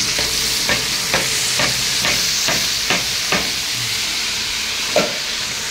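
Boiled, ground onion paste hits hot oil in a pan and is stirred: a steady sizzling hiss broken by regular spatula scrapes roughly every half second, close up with no talk.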